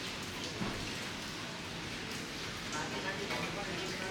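Steady rain pours outdoors in Kerala, a dense, even hiss of drops lasting throughout at moderate loudness, with a voice faintly present beneath it.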